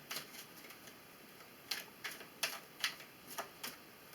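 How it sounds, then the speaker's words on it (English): Soft, crisp tarot card flicks and riffles in a few short bursts, quiet and close, with pauses between them. "shuffle your cards up here for you"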